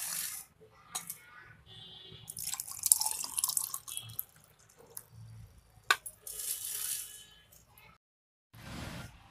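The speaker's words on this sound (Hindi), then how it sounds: "अभी हम इसको ग्लास में डालेंगे।" Sattu sharbat, a drink of roasted gram flour mixed with water, poured into a glass with close liquid splashing and dripping in bursts, then a brief pause and a final short trickle.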